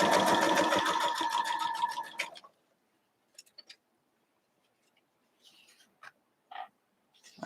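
A sewing machine stitches a corner onto a 6-inch Christmas tree quilt block, running in a fast steady whir for about two seconds and then stopping, followed by faint scattered clicks and small handling sounds.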